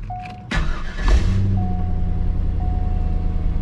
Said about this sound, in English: let's hear this 22-year-old V8, which is still on the stock exhaust and doesn't sound bad